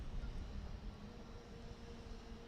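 Several SM Junior 65 and 85 class racing kart engines rev at a circuit before a heat start, a steady loud buzzing drone with low rumble that stays fairly even throughout.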